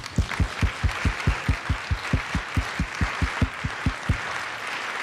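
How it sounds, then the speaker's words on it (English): Applause at a 2011 Connected Health Symposium interview session, dominated by close, evenly spaced claps in a steady rhythm of about four per second, with a softer spread of clapping behind them, ending abruptly. "Let's give a round of applause"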